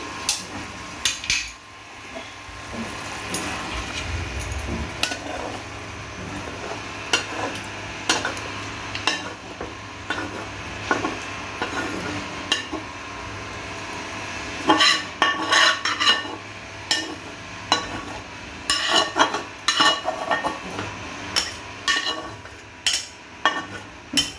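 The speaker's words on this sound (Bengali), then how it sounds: "আর এখন আমি হয়ে গেছে, আমি এখন বাউলে ঢেলে দিচ্ছি।" Steamed prawns in mustard oil are scraped and poured from a pot into a bowl, with repeated metal spoon clinks and scrapes against the pot, growing busier toward the end over a faint sizzle.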